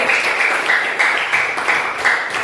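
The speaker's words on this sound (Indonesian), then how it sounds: "tepuk tangan untuk Yusuf" Classroom applause for a pupil named Yusuf: a steady wash of many hands clapping at once, fairly loud and continuous for a couple of seconds, with a few stronger bursts and no clear talk.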